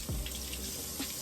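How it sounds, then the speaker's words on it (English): Potatoes rinsed under a running kitchen tap, a steady close stream of water splashing into the sink with brief surges, no voices. "Rinse my potatoes off real quick because I want to rinse my meat off."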